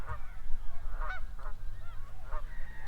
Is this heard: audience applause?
no